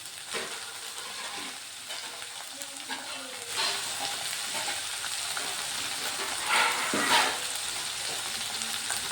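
Onions sautéing in a pan for a paneer curry, a steady broadband sizzle with occasional stirring scrapes and louder bursts of frying partway through, close and continuous with no talk.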